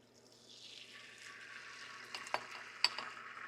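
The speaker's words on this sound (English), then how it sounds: "And that little sizzle right there is a good sign." A soft sizzle of scrambled eggs frying in butter in a hot pan rises gradually, with a couple of light clicks of a utensil against the pan.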